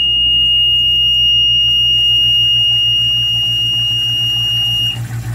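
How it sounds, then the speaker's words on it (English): A sump pump's high water alarm box sounds a loud, steady high-pitched electronic tone that holds unbroken, with a low pulsing hum from the pump beneath it, before cutting off near the end. "That's the high water alarm, this box."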